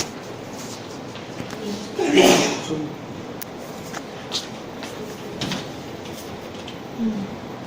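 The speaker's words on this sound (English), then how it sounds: "by driving these motor it is going to opening the doors" A small motor-driven door on an oxygen level sustainer prototype slides open in one brief whirring burst near the middle, followed by a few faint clicks over a quiet background.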